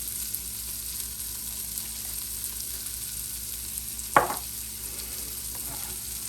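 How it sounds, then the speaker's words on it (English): Beans being stirred in a pot for quinoa chili: a quiet, steady background hiss with one short, sharp scrape of the stirring utensil partway through. "Give them a stir."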